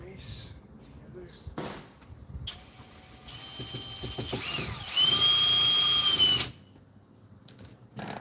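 A power drill whirs in a few short bursts, ending in one longer high-pitched spin, with a person talking between the runs.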